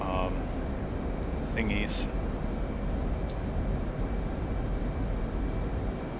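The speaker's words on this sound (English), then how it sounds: "All right, so we're actually taking off right now. Taking off on the taxiway" A video-game fighter jet takes off down a taxiway with a steady, loud roaring engine wash throughout, while someone talks over it and brief cockpit tones chirp.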